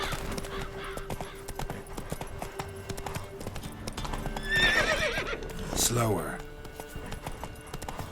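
A horse's hooves clip-clop in The Witcher 3 video game, with a whinny midway and game music underneath, while someone speaks briefly.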